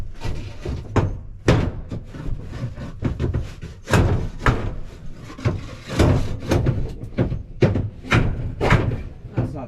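An old, crusty wooden shelf is hammered out in a trailer renovation. Repeated heavy thuds and knocks come at an irregular rhythm, close and loud, with wood creaking and rubbing between blows.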